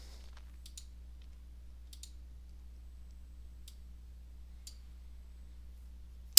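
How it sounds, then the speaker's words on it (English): Several sharp, quiet computer mouse clicks spaced out over a low steady hum, with one louder click at the very end. "And then I'll click on Add."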